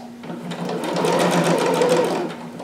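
A domestic sewing machine stitches fabric in a quick, even mechanical chatter with a rhythmic whir that swells after the start and holds close and clear before tapering off.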